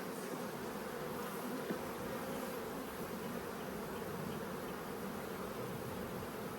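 Honey bees droning in an opened hive as they are smoked back down, a dense, steady buzzing that fills the scene at a soft, even level with no talk.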